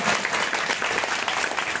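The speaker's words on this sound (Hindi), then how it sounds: "इन लोगों की ताली बजाओ देखो" Steady applause from an audience at a Bhagwat katha religious gathering in Noida, dense continuous clapping filling the short stretch without a break.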